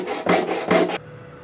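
A hacksaw rasps through metal during a DIY shower sump install on a boat: two quick, loud push strokes close by, then a faint hum with no talking.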